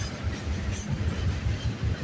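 A CN freight train passes on a rainy morning, giving a steady close rumble with a rhythmic clickety-clack of wheels over rail joints, continuous and fairly loud, with no talk.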